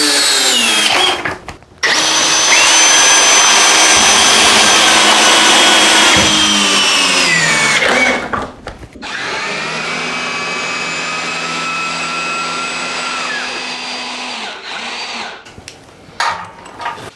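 A cordless hammer drill, either a Milwaukee M18 Fuel Gen 4 (2904) or a Flex 24V Turbo (FX1271T), whines loudly at full speed for several seconds, stops briefly, then runs again at a slightly lower pitch before cutting off.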